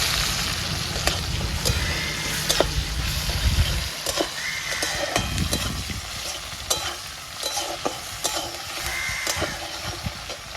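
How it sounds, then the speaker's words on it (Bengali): Chopped tomato fries in a pan for a katla fish head and moong dal dish, giving a steady close sizzle with frequent scraping stirs and clinks of a spatula throughout. "টমেটো কুচুনো ভালো করে ভেজে নিতে হবে"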